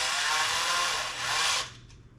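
A power drill with its clutch set low drives small machine screws into a portable room divider, giving a steady high-pitched whir for about a second and a half that dips once briefly, then cuts off.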